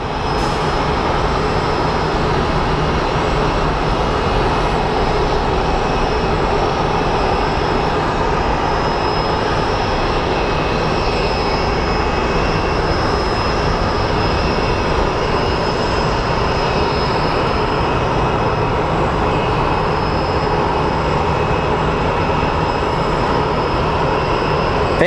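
A Boeing 777 jet at Phoenix Sky Harbor airport gives a loud, sustained engine roar and rumble, steady and close for the whole stretch, with no talking.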